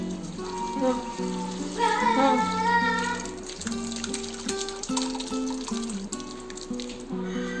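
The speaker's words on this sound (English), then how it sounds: "Now pour the milk through the muslin cloth." Curdled A2 milk strained through a muslin cloth into a vessel while making paneer, a steady liquid pour running under tonal background music.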